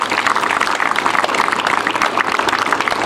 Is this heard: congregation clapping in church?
yes